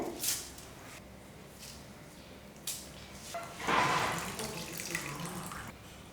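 Water drains through a colander, splashing and trickling steadily, with a louder gush midway and a few clinks, close and continuous.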